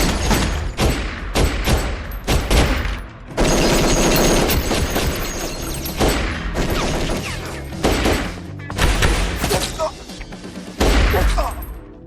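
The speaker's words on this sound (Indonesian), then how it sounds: "James, Bianca, dan William yang masih beradu tembak dengan 3 anak buah Risteville yang tersisa" Rapid bursts of gunfire rattle through an action-film shootout, loud and close, with dense volleys broken by short pauses and heavy impacts.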